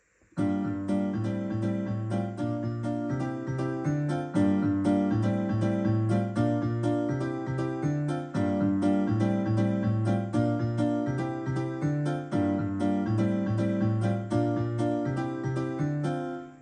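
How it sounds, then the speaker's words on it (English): M1-style piano sample triggered from a multipad on a Yamaha PSR-SX920 keyboard, playing a steady, dense rhythmic chord pattern at a constant level for about sixteen seconds, with no talking. "So here's the M1 piano."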